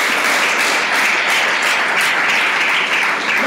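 A church congregation applauding to acclaim the Lord, a steady, dense wash of clapping throughout, loud and close, with no talking.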